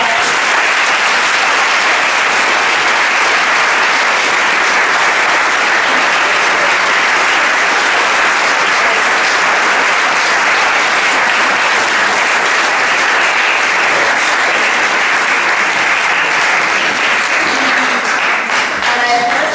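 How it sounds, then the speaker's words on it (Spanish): Sustained, loud audience applause at a science café talk on planned obsolescence, an unbroken wash of many hands clapping for nearly twenty seconds with a faint murmur of voices underneath. "os voy a pedir de nuevo un aplauso"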